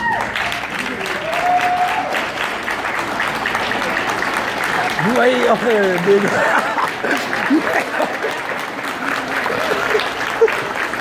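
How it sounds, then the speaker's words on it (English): Parents of Special Olympics athletes are applauded at a banquet, steady crowd clapping running throughout while voices talk, call out and laugh over it. "please stand so we can give you a round of applause"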